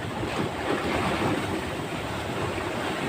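Rising waves and a strong current while fishing at sea, a dense steady wash of surf mixed with wind buffeting the microphone, loud and close throughout.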